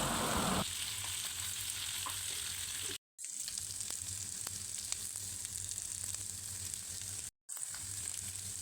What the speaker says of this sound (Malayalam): എന്നിട്ട് നന്നായി ഫ്രൈ ചെയ്തെടുക്കണം